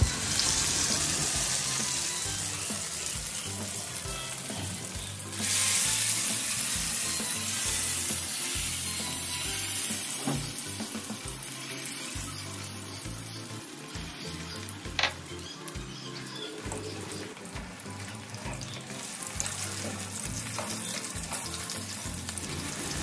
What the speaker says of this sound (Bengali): কড়াইয়ে তেল দিয়ে তেলটি গরম হয়ে এলে একটি একটি করে চিকেনগুলি দিয়ে ভালো করে গোল্ডেন ব্রাউন করে ভেজে নেব